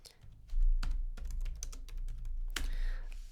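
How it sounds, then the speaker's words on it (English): Keystrokes on a computer keyboard as a search phrase is typed into a web browser, a quick irregular run of close clicks and taps with no voice. "So I'm going to type in Love Game Framework"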